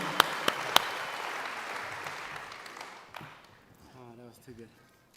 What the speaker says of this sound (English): Miss Tembo, everybody give a big round of applause.